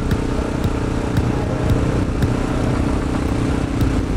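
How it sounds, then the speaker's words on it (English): Honda XR650L dual-sport motorcycle engine running steadily and loudly at close range, a continuous throbbing rumble with no voices. "But the bike does run really well."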